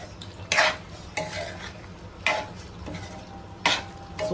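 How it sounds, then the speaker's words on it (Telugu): A spoon scrapes around a pot of gongura chicken curry as coriander is stirred in. Distinct scraping strokes repeat every second or so over a soft background of cooking sizzle. "కొత్తిమీర కూడా వేసుకొని ఒకసారి కలుపుకుందాము"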